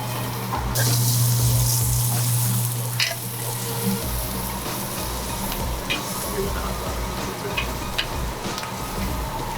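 Food sizzles steadily in a hot pan, a constant crackling hiss with occasional louder pops and clinks, close by.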